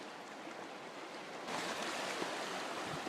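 A river runs hard and fast, a steady broadband rush that swells louder partway through, close, continuous and faint in level with no talking.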